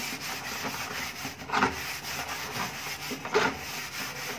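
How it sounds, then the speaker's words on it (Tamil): A plastic bucket scrubbed clean with kolam powder, giving a steady close rasping rub with two brief harder strokes standing out, no talk. "இப்போ அதே மாதிரி இந்த வாளியையுமே அந்த கோலப்பொடி வச்சு இப்போ நான் நல்லா தேய்க்க போகிறேன்"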